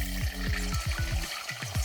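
Hot oil sizzles and crackles steadily in a new wok being seasoned, with a series of low, rhythmic scraping swoops repeating throughout.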